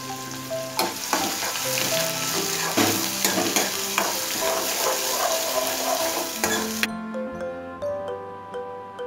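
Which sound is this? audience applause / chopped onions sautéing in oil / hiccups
chopped onions sautéing in oil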